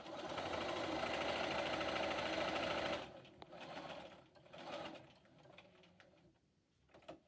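A sewing machine hums at a steady fast rate while stitching a fabric face mask, then stops after about three seconds, leaving quiet clicks and brief handling sounds.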